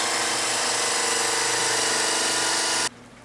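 A high-speed abrasive tool cleans the tire of a Gotway Mten3 electric unicycle with a loud, steady whirring roar that cuts off abruptly near the end.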